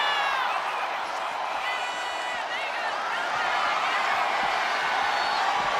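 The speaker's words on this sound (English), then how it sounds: "Thunderous applause for these competitors. A wave of sound coming from every corner" Arena crowd in the WWE 2K26 wrestling video game roars and cheers steadily throughout, a dense, loud wash of sound with scattered whoops.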